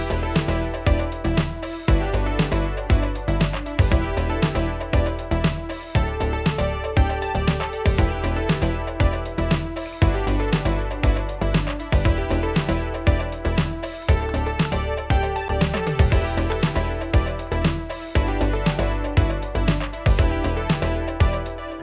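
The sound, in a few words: synthwave 8-bar loop main stack played in DAW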